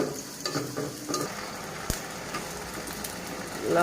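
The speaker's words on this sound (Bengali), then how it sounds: "পেঁয়াজটা ভেজে নিই।" Onion frying in oil gives a steady close sizzle with stirring scrapes and a sharp tap near the middle, at the start of a thin curry of bitter gourd, potato and rohu fish.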